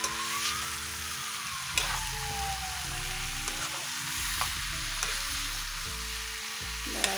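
Jackfruit curry fries and sizzles in a pan with occasional stirring knocks, a constant low hiss with faint background hum; no talking.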